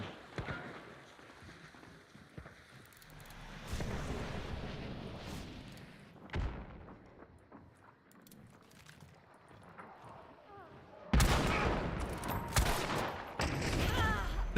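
Gunfire in the Hunt: Showdown shooter game, with scattered shots and a heavy burst of loud, dense firing near the end, set against quieter ambient stretches.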